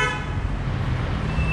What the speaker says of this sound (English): listen to people honk at me